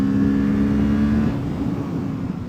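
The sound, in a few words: Kawasaki Ninja 650 180-degree parallel twin engine revving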